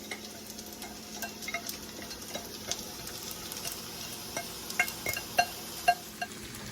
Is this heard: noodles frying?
yes